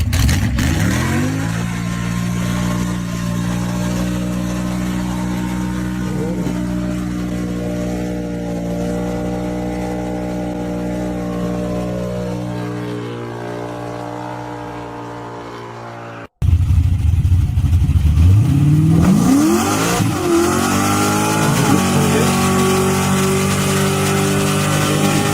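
A muscle car engine roars through a burnout, a loud sustained rev that holds and slowly sags, then cuts out abruptly and bursts back to full throttle with rising, whining pitch.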